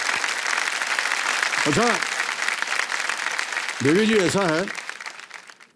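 A studio audience at a KBC India quiz show claps in sustained applause, with a host's voice briefly speaking over it twice before the clapping fades.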